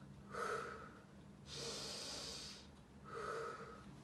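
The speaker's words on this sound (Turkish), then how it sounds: "Öncelikle derin bir nefes alıyoruz. Veriyoruz." Kindergarten children at about age five take deep breaths during a breathing exercise, with three soft, airy breaths in a row, the middle one a longer breathing out, all faint and without talk.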